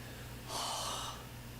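A voice imitates a sudden sharp gasp followed by renewed breathing, a single breathy intake up close, quiet and over in under a second.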